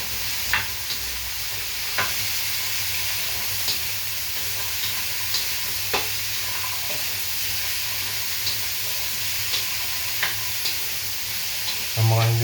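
Pancit ingredients sauté in a frying pan with a loud, steady sizzle, while a spatula scrapes and clacks against the pan at regular intervals of about two seconds.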